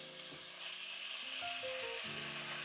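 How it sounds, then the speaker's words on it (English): Onions frying in a pan as part of a creamy chicken pasta, a steady broadband sizzle throughout with faint stirring, close and fairly quiet with no talking. "then fry the onions separately"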